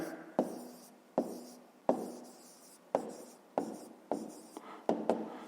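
A pen scratches out an answer on paper in a quiet room, about eight distinct, close strokes arriving in an uneven rhythm, each a sharp scrape that trails off.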